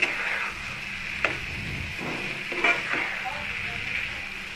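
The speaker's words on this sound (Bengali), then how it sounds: "এই মশলাগুলো দিয়ে আমি একটু পটলটাকে কষিয়ে নেব যাতে পটলটার মধ্যে মশলাগুলো ঢুকে যায়।" Pointed gourd being sautéed in a pan with mustard paste and spices, heard as a soft sizzle with scraping stirs and a few utensil clicks. A steady high kitchen tone sits underneath.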